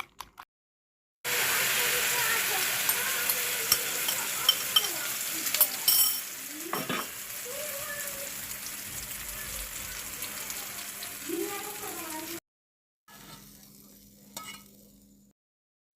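Egg and eggplant fry in a pan with a close, steady sizzle and occasional stirring scrapes that run for about eleven seconds before cutting out, with a brief quieter stretch of frying near the end and faint voices now and then.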